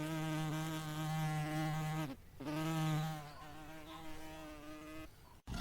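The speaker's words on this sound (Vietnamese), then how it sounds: "Bee." A buzzing bee drones with a steady close hum, breaks off briefly and then resumes, fading out toward the end.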